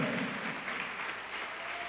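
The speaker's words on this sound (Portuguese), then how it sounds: "Pode aplaudir e glorificar." Church congregation applauding during a sermon, a soft, even wash of many hands clapping heard at a distance, low in level and sustained for a brief moment.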